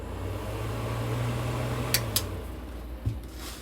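A ventilation fan in a 2022 Forest River No Boundaries NB19.1 travel trailer hums steadily at close range, then cuts off partway through, followed by a few light clicks and a soft thump.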